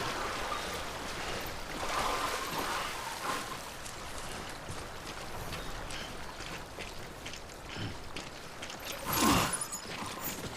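A character wades across a deep water stream in the video game Death Stranding. The water rushes and splashes steadily, fairly faint, with a brief louder surge near the end.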